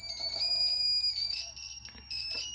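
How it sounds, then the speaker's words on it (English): An electronic buzzer driven by Raspberry Pi PWM beeps in a rapid high-pitched pattern, its tone stepping upward as an object nears a distance sensor, over a low steady hum. "that's how the buzzer sound if we get closer"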